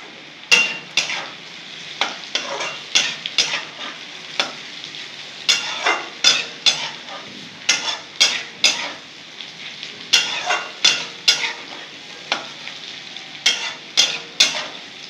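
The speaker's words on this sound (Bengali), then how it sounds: "আর একটু নেড়ে চেড়ে নেবো 2-4 মিনিট" Papaya being stirred and fried with a little cumin powder in a pan for a Bengali ghonta: a steady sizzle runs throughout, cut by regular scraping strokes of a spatula every half second or so, close and fairly loud, with no talking.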